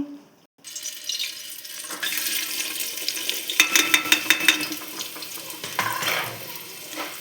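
Sliced onions hiss and sizzle steadily in hot oil in a pan while cooking cabbage and potato curry, a continuous bright frying crackle with a few sharper pops and faint clinks partway through.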